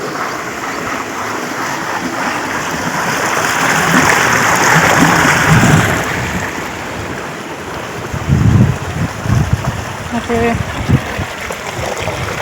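Irrigation water running into a tobacco field on a farm, a steady broad rushing wash with wind buffeting the microphone, while a voice talks over it.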